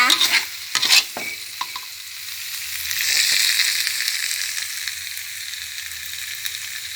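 Skipjack tuna stir-fries with red holy basil in a hot pan. A few close scrapes of stirring at the start give way to a loud, steady sizzle that swells and holds.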